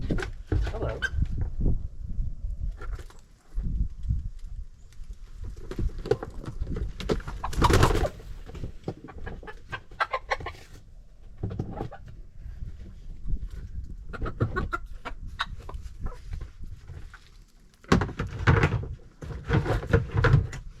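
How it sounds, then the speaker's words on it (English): Chickens newly let out of a DIY backyard coop murmur and cluck in soft, low bursts, close by, with scattered creaks and thumps and a person talking at times. "So now it's time to release these little chickens."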